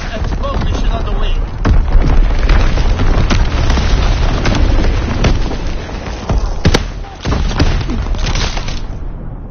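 Artillery battery firing in a WWII video game, a run of heavy booms and sharp blasts at irregular intervals over a rumbling battlefield din, with voices calling out now and then.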